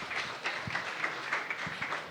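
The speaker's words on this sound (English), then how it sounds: "Let's give a round of applause" Applause from an audience at a quantum computing side event, a brief burst of scattered clapping heard from a distance.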